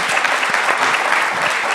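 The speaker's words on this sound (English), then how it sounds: "Let's give our guests a round of applause." Steady applause fills the room at a conference on race, gender and entrepreneurship, an even wash of clapping from the audience without pauses or voices standing out.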